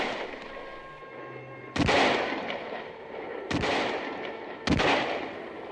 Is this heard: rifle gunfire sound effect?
yes